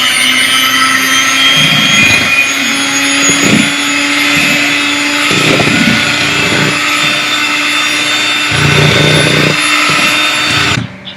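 An electric mixer whirs steadily on low speed through cake batter, loud and close. The motor hum holds for the whole stretch, with light bumps and scrapes in the bowl, and cuts off at the end.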